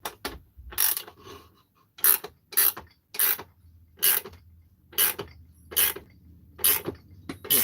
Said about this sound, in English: you can use your ratchet wrench, which is my favorite